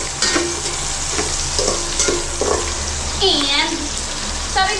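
Onions frying in a pan, a steady close sizzle with stirring clatter and scraping, while voices talk over it intermittently.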